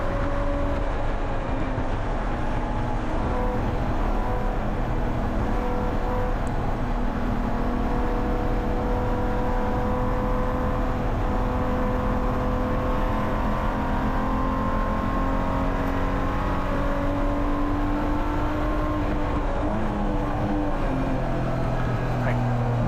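BMW E46 Spec race car engine droning at Willow Springs, heard from the cockpit as a continuous loud in-car roar with shifting pitch through downshifts, with a voice talking over it.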